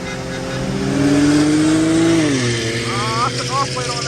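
An Infiniti G37 accelerates hard from a roll in a race against a Q50s 3.0t, heard from inside the car. Its engine note climbs steadily louder and higher, then falls sharply at a shift before pulling again.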